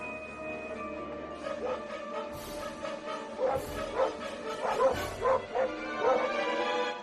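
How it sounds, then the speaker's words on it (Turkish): Several dogs bark and yip in quick, excited bursts, with whimpering between, fairly close and overlapping one another over a faint steady hum. "Köpekler burada durdu."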